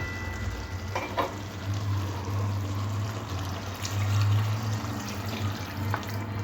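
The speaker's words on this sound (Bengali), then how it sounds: "এখানে আমি আরও একটু জল দেবো" Water splashes into a simmering spinach and puti fish curry, pouring steadily over a continuous sizzle and bubbling from the pan, close and moderately loud.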